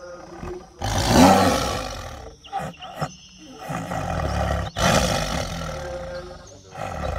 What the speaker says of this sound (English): Look guys, big size tiger, yellow black combination